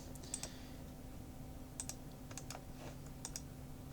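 Soft keystrokes on a computer keyboard, a few irregular clicks and short bursts of taps while keys are rebound in a game, quiet and close over a faint steady electrical hum.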